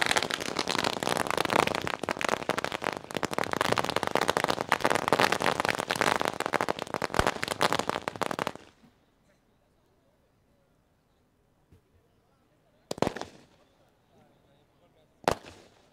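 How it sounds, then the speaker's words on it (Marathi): A long, dense barrage of crackling firecrackers and fireworks greets guests at a local sports tournament in Tembhode. It cuts to near silence, then two more sharp bursts follow. "सचिनजी मात्रे सर, नूरभाई खान आरके, या सगळ्या मंडळींचं आम्ही फटाक्यांच्या आतिषबाजीमध्ये सहर्षे स्वागत करीत आहोत."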